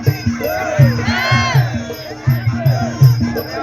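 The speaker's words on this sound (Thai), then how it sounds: "อ้าวเสียงเชียร์มาแล้วครับ" Crowd cheering and chanting at a Thai boxing match, a steady roar of many voices with rhythmic rising shouts and a drum-like pulse repeating about every half second, fairly loud throughout.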